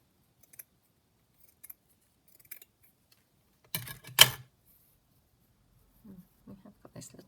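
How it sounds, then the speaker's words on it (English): Scissors snip through a piece of fabric cut away from stitching, two or three quick crisp cuts bunched together, close and moderately loud, with faint rustling before and soft handling sounds after. "Just literally snipping a piece off so we've got tinier pieces to work with."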